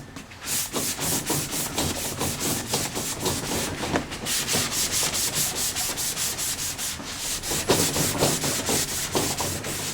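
Steady sanding on kitchen cabinet wood, a continuous scratchy rubbing broken into quick repeated back-and-forth strokes, close and fairly loud, with no voices.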